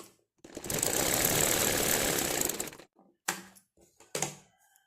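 Sewing machine stitching fabric for a beginner's tailoring job, a steady fast whirring run of about two and a half seconds, followed by two short bursts of stitching, close and alone.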